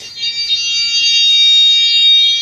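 A fire alarm sounds loudly and steadily during a fire alarm system test, a continuous close electronic tone that holds unbroken throughout with no voices.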